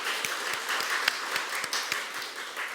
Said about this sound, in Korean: 다 같이 박수로 하나님께 영광을 돌리는